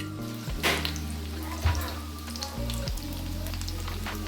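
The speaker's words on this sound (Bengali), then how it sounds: "এই যে আস্তে আস্তে এগুলো ফুটে যাচ্ছে, ভাজা ভাজা হয়ে যাচ্ছে" Breadcrumb-coated katla fish chops fry in oil with a steady, soft sizzle, broken by a few clatters and brief bumps, under a low background hum.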